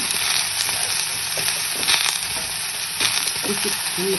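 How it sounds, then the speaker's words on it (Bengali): Potatoes sizzling as they fry in a pan, with the steady crackle of hot oil and repeated scraping and clinking strokes from stirring, fairly close and with no talking. "গোলা আলু, লাল আলু দিয়ে এটা বেশ কিছুক্ষণ নেড়ে নেব"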